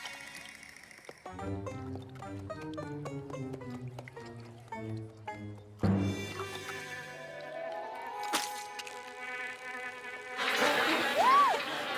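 A droning, insect-like buzzing of cartoon bees hums along over a lively tonal backdrop, growing denser and louder toward the end.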